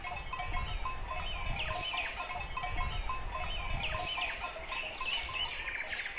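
Sheep and goats grazing on an alpine summer pasture bleat repeatedly at mid distance, with a steady mix of overlapping calls and some bird chirps around them, no talking.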